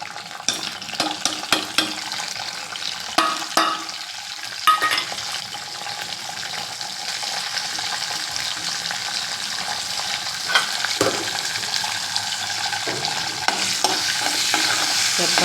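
Cashews, asafoetida, chana dal, urad dal, mustard seeds and cumin sizzle in hot oil for a tempering, with a steady frying hiss and repeated scrapes and clinks of a spoon stirring the pan.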